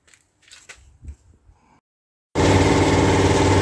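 A cheap air compressor starts up abruptly and runs with a loud, dense, steady motor roar while a caravan is spray painted, following a few seconds of quiet handling clatter.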